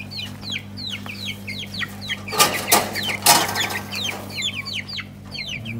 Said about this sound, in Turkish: Ve civciv var.